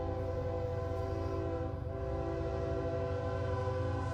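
Sustained, loud train horn blasts from a passing train near a track crossing, holding steady chords throughout with engine rumble beneath, no talking.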